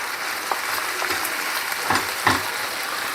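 Chard leaves frying in a pan and being stirred, a steady close sizzle with a few soft scraping knocks of the spoon, no voices.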